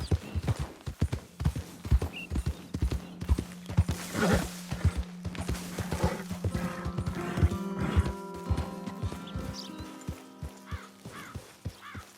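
Horse hooves trotting in Red Dead Redemption 2, a rhythmic close clip-clop throughout, with a snort or whinny along the way and a sustained musical tone entering partway through, no talking.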